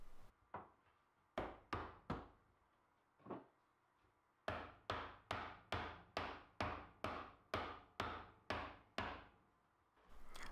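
Wooden dowels hammered into a wooden hammer rack with walnut parts: a few scattered sharp knocks, then a steady run of about a dozen evenly spaced hammer blows, close and loud with short decays.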